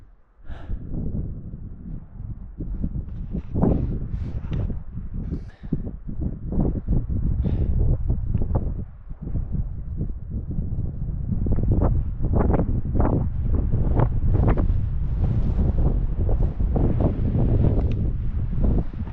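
Wind gusting across an exposed, unsheltered campsite in grizzly country, buffeting the microphone in loud, uneven rumbling bursts with brief lulls, growing stronger toward the end.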